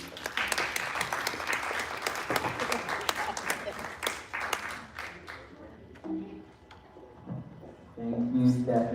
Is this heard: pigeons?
no